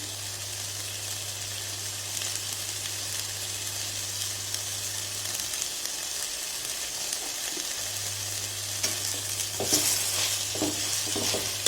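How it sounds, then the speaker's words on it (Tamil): Onions and tomatoes with spices, including fennel powder, sauté in a pan. A continuous close sizzle runs throughout, with a few light stirring scrapes toward the end. "எல்லாத்தையும் போட்டு வதக்கி விட்டுடலாம்."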